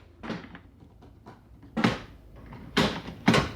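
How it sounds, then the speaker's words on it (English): Several sharp mechanical clunks and rattles from the locked door of a 1990s Japanese import car being tried, in uneven bursts close by, with no speech. "Try to open the door. It's locked."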